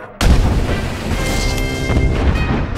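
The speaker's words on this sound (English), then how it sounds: "pounding it with heavy artillery as the gunners toiled relentlessly in the tropical heat" Heavy artillery bombardment of a fortified city in tropical heat: a sudden loud boom opens, then a dense, sustained low rumble of shelling continues without pause, close and overwhelming.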